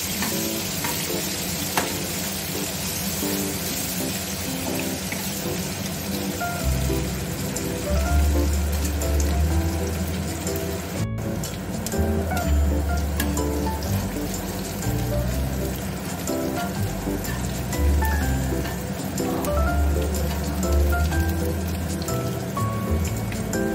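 Sliced onions fry in hot oil in a steady, close sizzle that holds for the whole stretch, broken by occasional stirring scrapes, with no one speaking.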